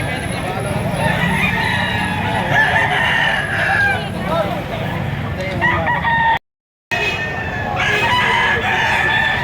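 Crowing from a six-month-old rooster, an SBR crossed with Claret gamefowl, at a poultry sale in Lipa, Batangas; loud crows and clucks ring out over busy farmyard noise, with a brief gap of silence partway through.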